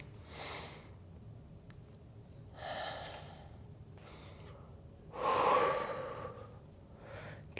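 Deep breathing during a standing Pilates workout: three separate audible breaths, each a long exhale or sigh, spaced a couple of seconds apart, close to the listener with no talking.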